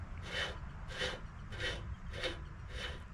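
A wheel part on a trailer in horrible shape is spun off by hand, giving five steady, evenly spaced rasping scrapes close up, with no talk.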